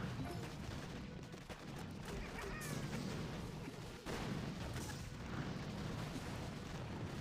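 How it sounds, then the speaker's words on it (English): Steady barrage of booming launcher fire and explosions in a video game as a rocket launcher targets bombardiers, dense and continuous with a few sharper blasts, fairly quiet overall with no talking. "So the rocket launcher is gonna target the bombardiers now."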